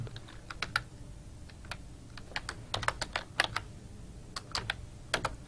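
Task names are typed on a computer keyboard in irregular bursts of crisp, close key clicks with short pauses between them. Quiet room tone sits underneath and no one speaks.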